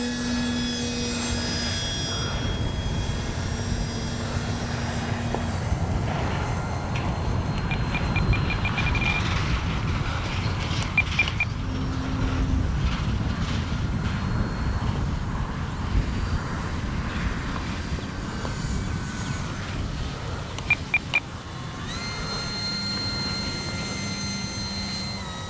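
An E-flite Timber SE RC airplane flying overhead with flaps up on high rates, giving a steady whirring electric motor drone that holds loud and continuous, with small shifts in pitch as it passes.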